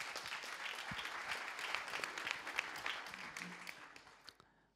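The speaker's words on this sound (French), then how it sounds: "je vous demanderai, s'il vous plaît, de l'encourager par quelques applaudissements" An audience at an evening conference-debate on 3D printing at a business school gives a few seconds of steady clapping, heard at a distance and tapering off at the end.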